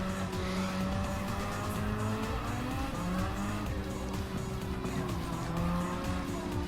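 Race cars in Gran Turismo 7, including a Mazda RX-7, with engines droning and whining steadily and tires squealing through corners over a sustained, fairly quiet mix, with no voices.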